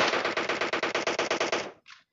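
Rapid automatic gunfire in the PUBG Mobile game's zombie mode, a burst of about fourteen sharp evenly spaced shots, then a short final report.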